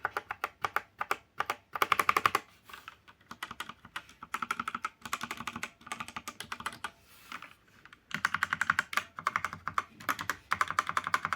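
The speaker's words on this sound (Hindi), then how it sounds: "इसकी सबसे अच्छी आवाज़ मुझे लगी एंटर की।" Mechanical keys clack on a Cosmic Byte keyboard in close, rapid bursts of typing with short pauses between runs, loud and crisp with no talking.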